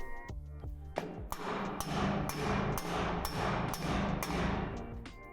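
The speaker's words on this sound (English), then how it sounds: "place a piece of scrap wood on the lower extension arms and tap it down" Piece of scrap wood on the lower extension arms of a Lifetime adjustable in-ground basketball pole being tapped down: about a dozen sharp, ringing hammer blows in a steady rhythm, close and loud with a metallic echo.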